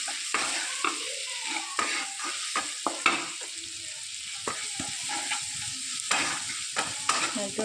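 Onion, slit green chili and crushed garlic, seasoned with salt and turmeric, sizzle in a pan while a spoon stirs them in frequent close scrapes and knocks.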